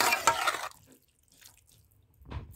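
Hot water pours into a catfish tagine tray in a home kitchen, a short splashing gush that stops abruptly, followed by a near-silent pause and a brief second splash.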